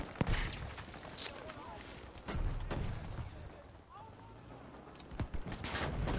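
Battlefield V gunfire during desert tank and infantry combat: sharp single shots and short bursts, some near and loud, others distant, with footsteps and muffled background chatter between them.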